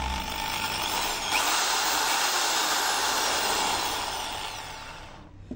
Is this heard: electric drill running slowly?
yes